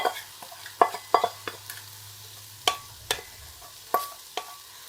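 Eggs scrambled in a wok, with sharp spatula clinks and scrapes against the metal sounding at irregular intervals over a low, steady sizzle.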